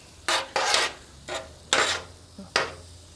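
Ribeye steak is mixed with Uncle Steve's seasoning on a griddle for a Philly cheesesteak. Five distinct rasping scrapes of a spatula sound close up, spaced irregularly over a low background hum, with no speech.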